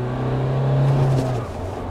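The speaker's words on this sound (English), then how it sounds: "Listen to the engine, guys." A 2023 Mahindra Thar RWD diesel pulls hard under acceleration, its engine drone loud and steady from inside the cabin, rising slightly before easing off.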